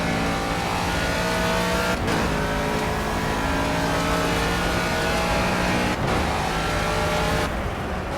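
Race car engine in a BTCC touring car racing video game, a steady loud high-revving drone with harmonic whine, briefly dropping at two gear shifts before climbing again, continuous throughout.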